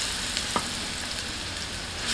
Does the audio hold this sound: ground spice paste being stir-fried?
yes